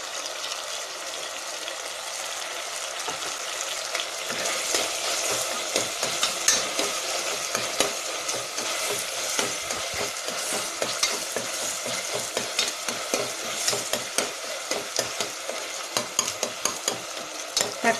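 Ginger and garlic fry in a pan of Kerala-style masala curry with tomatoes, a loud continuous sizzle broken by repeated rhythmic scraping strokes of stirring, close up and without talk.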